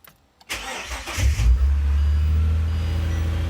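A turbocharged Ford Falcon BA XR6 engine turns over and settles into a steady, loud idle with a deep low rumble, close by, no talking.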